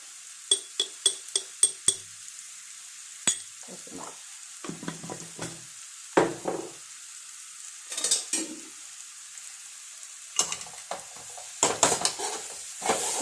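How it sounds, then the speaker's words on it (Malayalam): A ladle stirring and mashing young jackfruit thoran in a pan, a string of crisp metallic taps and clinks, then scattered scraping and knocking strokes at close range with no talk. "നല്ലപോലെ മിക്സ് ചെയ്യുക ഈ ഉടയാത്തതുണ്ടെങ്കിൽ ഈ തവി വെച്ചിട്ട് അങ്ങനെ ഉടച്ചാൽ മതി കേട്ടോ"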